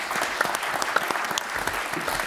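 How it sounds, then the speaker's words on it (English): At a political event on crime and security, an audience claps for a panel, producing a brisk, dense round of applause with sharp individual claps standing out, moderately loud and without speech. "Round of applause for our excellent panel"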